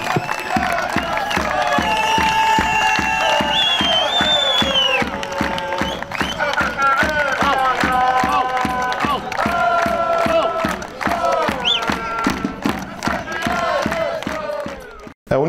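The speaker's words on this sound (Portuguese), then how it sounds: "Uma salva de palmas pelos campeões de 2022." Crowd noise fills the clip as people cheer, shout and whoop for the 2022 champions of the seven-a-side football tournament, a loud, continuous roar with many overlapping voices and dense clapping underneath.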